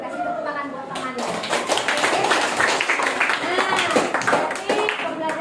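Classmates in a school classroom give a round of applause, a dense, close patter of many hands clapping that builds and holds with children's voices mixed in.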